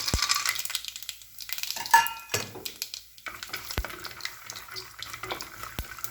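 A handful of peanuts frying in a pan gives a low crackling sizzle, broken by scraping strokes of a spoon and a few sharp clacks against the metal.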